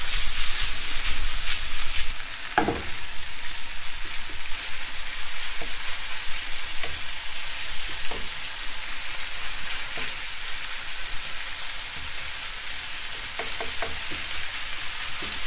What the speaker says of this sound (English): The beef cooks pretty quickly, you know, so it's quite easy. Plus it's on a high heat,